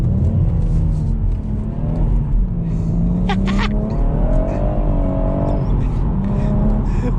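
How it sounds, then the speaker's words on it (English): BMW M140i in Sport Plus mode revving hard while spinning its tyres, a loud sustained engine drone with wavering pitch and a brief squeal or scrabble midway, heard from close by without talk. "it can definitely light up its tires."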